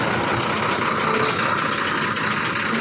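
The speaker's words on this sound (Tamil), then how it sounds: "இன்னொரு வண்டி நம்ம கம்பெனி வண்டி வந்துருச்சு" A company truck idles on arrival at night, its engine giving a steady, loud low rumble that stays constant throughout with no talk over it.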